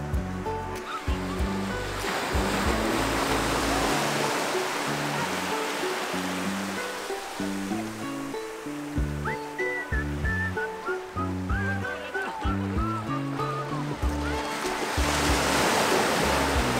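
Ocean surf rolling onto the beach at Palolem, Goa, a steady broadband wash with no speech, overlaid by some tonal music or other background sound through much of the stretch.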